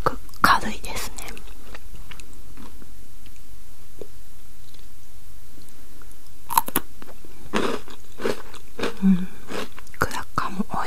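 Crackers topped with Nutella are chewed close to the microphone in ASMR style, giving a few sharp crunchy bites followed by softer mastication, with whispering in between.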